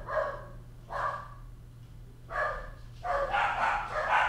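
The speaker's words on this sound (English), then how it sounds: "My dogs are going crazy right now." Several dogs barking in loud, repeated bursts, with a short gap and then a denser, overlapping volley near the end, over a steady low hum indoors.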